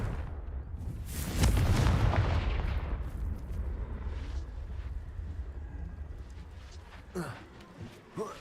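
In the video game Hogwarts Legacy, the Confringo fire spell explodes in one loud, booming blast that rolls off into a long fading rumble, with a few short sharp knocks and voice-like sounds near the end.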